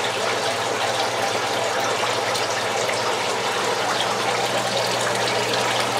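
Water drains continuously out of hydroponic Dutch buckets into a drain pipe that returns it to the basin, a steady close gush and trickle with no voices.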